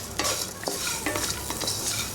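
Tamarind and finely chopped onions fry in a pan for a biryani gravy, with a steady close sizzle and repeated stirring scrapes that come every fraction of a second.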